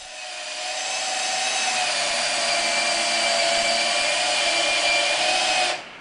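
A shop-made cutting tool spins steadily, shaving the corners off a highly figured maple blank to form a dowel, giving a loud, continuous whirring drone with a high whine that holds for several seconds, then cuts off abruptly near the end.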